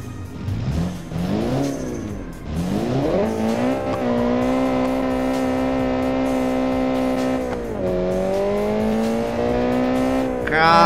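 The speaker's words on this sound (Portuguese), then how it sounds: "Vou fazer um 0 a 100 aqui, depois colocar ele na pista" A video game car in Automation revving hard through a 0-100 acceleration run, engine pitch climbing through several gear changes, loud and close, with no talking over it.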